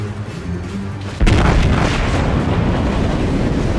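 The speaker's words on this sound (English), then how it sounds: "These are battleship guns," A battleship's heavy guns fire in World of Warships, a sudden deep boom after a quiet moment that rolls into a sustained low rumble, loud and close.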